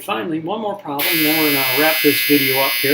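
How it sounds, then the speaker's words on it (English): A laundry dryer's buzzer starts about a second in and drones loudly and steadily to the end, sounding over a man's ongoing speech. "If you hear that buzzer going off, my wife is doing laundry"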